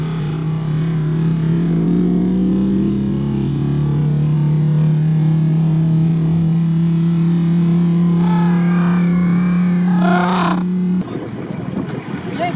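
A Lada Niva engine strains off-road with a loud, sustained, slowly rising whine that cuts off abruptly near the end, while voices chatter over it.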